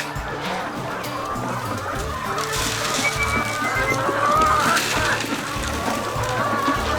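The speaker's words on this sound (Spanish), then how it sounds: "Estas son las gallinas ponedoras." Laying hens on a farm in Colombia cluck and murmur continuously, with several birds overlapping close by in a busy, steady chorus.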